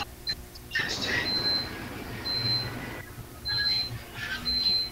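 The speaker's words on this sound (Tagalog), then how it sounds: "kasi nung cellphone yung nag-alarm." A cellphone alarm rings in a home, sending out repeated short high beeping tones in bursts over several seconds while people talk nearby.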